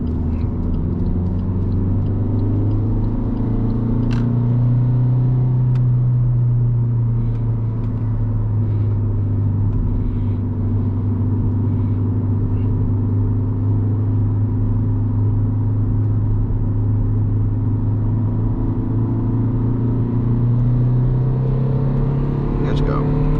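An Alfa Romeo MiTo drives downhill at top speed, around 173 km/h, giving a loud steady engine drone and road and wind rumble heard from inside the cabin, with the engine pitch slowly sagging and rising.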